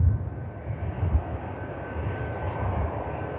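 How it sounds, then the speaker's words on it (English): A TAP Air Portugal airliner takes off from Manchester Airport, its engines producing a steady, distant low roar with gentle swells and no talk. "TAP Air Portugal takes to the skies."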